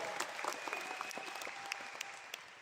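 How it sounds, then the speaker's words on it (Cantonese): An audience at a leadership training seminar in Kuala Lumpur claps steadily throughout, a dense, even round of applause filling the hall from start to finish. "俾啲掌聲佢好冇？"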